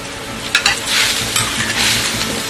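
Pork stir-frying in a hot wok, a loud close sizzle that swells and fades as the meat is tossed, with a couple of sharp clacks from the utensil and no talking.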